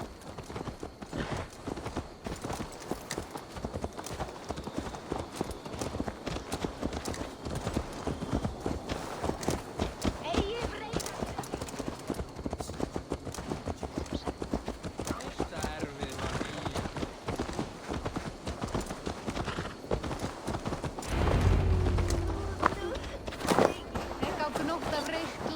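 Horse hooves clip-clop in a long, steady rhythm for nearly half a minute in Assassin's Creed Valhalla, with a deep rumbling swell near the end and voices talking over it at times.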